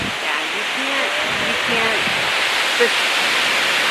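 Narada Falls at Mount Rainier pours as a steady, broadband roar of rushing water, constant and fairly loud throughout, with faint voices murmuring beneath it.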